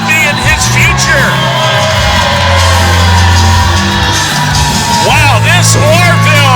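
A loud indoor crowd at an Oroville independent wrestling show shouts, whoops and jeers at a bald wrestler, a dense close-up roar with individual yells rising above it and commentators talking underneath.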